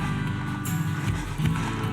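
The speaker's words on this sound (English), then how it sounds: "We got a horse at camp." A horse at a mountain camp clip-clops nearby, with faint steady hoof steps under broadband outdoor noise and a low rumble, alone without talk.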